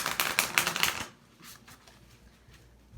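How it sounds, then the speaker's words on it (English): Quick riffling bursts of tarot cards being shuffled for about a second, close and crisp, followed by faint soft handling sounds. "One last shuffle for Virgos, please."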